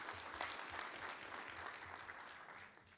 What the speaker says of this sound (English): Let's clap for WIPO for giving us that support.